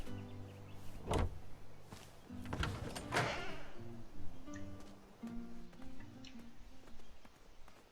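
In the King's Quest video game, a wooden bar is lifted and a door swings open: sharp knocks and thuds followed by a creaking, sliding scrape, close and fairly loud over faint background music.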